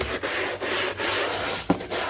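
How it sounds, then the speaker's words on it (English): Old scrub brush scraping the underside of an Ego mower deck, steady close rasping strokes in a repeated back-and-forth rhythm with a brief knock near the end. "I just take an old scrub brush that I have and just"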